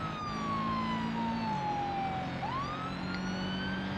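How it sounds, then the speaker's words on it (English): Police car siren in the BeamNG driving game, a steady wailing tone that sweeps down then rises again, loud and continuous over a low engine drone, with no talk. "I gotta turn on my sirens here."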